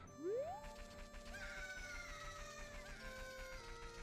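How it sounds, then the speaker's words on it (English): Chickens in Zelda: Ocarina of Time, with shrill clucking and squawking cries rising over a rumbling game soundtrack, fairly faint overall. "Screaming chickens."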